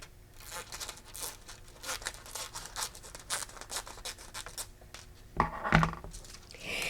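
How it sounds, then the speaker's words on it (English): Close, crisp snipping and crinkling as scissors cut cardstock, with several short cuts in quick succession and a sharper crunch near the end. "I'm going to get some scissors and cut this piece down a little bit"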